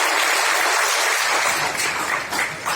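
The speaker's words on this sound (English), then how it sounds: "May I request each and every one of us to give a big round of applause to Dr. Ghulam." An audience applauds for Dr. Ghulam, a dense, steady wash of clapping that carries on throughout at an even level.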